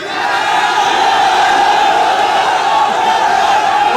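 A dense crowd at a BJP political rally in Sanchore, Rajasthan roars and cheers steadily, a loud, sustained wash of massed voices with no break.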